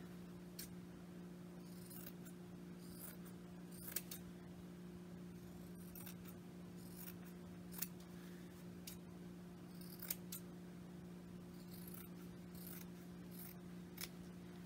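Scissors clip the fabric corners of a sewn pillow ornament, giving soft, quiet, close snips spaced a second or two apart over a low steady background hum.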